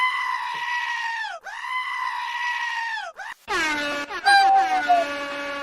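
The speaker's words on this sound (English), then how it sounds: "Bring out the goats, y'all." Goat bleating played as a sound effect: a run of loud, wavering nasal bleats, several in quick succession, followed by a burst of overlapping, higher bleats near the end.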